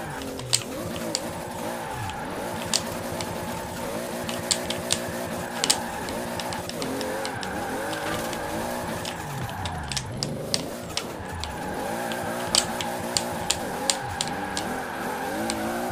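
An 1100hp Supra drifts in Forza Horizon 4 on Fortune Island, its engine revving hard and wavering through rising and falling pitch while tires squeal continuously, loud and close, with short clicks scattered throughout.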